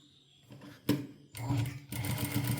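Sewing machine stitching a small folded hem on a coat: short runs of rapid needle chatter start and stop, growing longer toward the end, close and with no talking.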